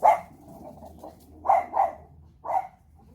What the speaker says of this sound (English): my dogs are going crazy for something